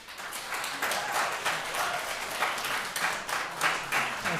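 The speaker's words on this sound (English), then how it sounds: "we ask that you do not clap" Applause from the audience at a town board of commissioners meeting, a moderate, fairly distant patter of many hands clapping steadily throughout with slight swells.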